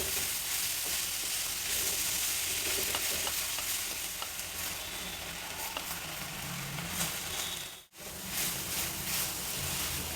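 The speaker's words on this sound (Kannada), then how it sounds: "ಮೆಂತ್ಯ ಸೊಪ್ಪು ಸ್ವಲ್ಪ ಚೆನ್ನಾಗಿ ಫ್ರೈ ಆಗಬೇಕು ಎಣ್ಣೆಯಲ್ಲಿ." Fenugreek leaves and onion frying in oil, a steady soft sizzle with scattered stirring scrapes and a brief silent break near the end.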